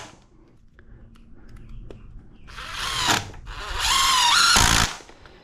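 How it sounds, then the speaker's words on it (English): A power drill drives screws into the end grain of wood for a chicken tractor build. Quiet handling knocks come first, then two loud whining bursts of the drill, the second rising in pitch as the screw seats. "we'll throw some screws into the end grain of the bottom piece"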